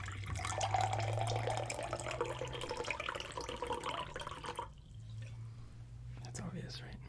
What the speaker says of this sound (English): you can just pour water out of it